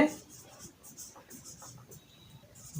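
Chalk or marker taps and scratches out numbers on a board during a class 7 math lesson, soft and intermittent beneath a teacher's ongoing speech.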